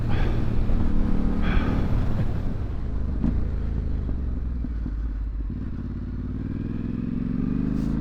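A Yamaha Tenere World Raid motorcycle engine spins up on a green lane, giving a loud, close, rough mechanical roar with wind buffeting that settles into a steady drone. No talking.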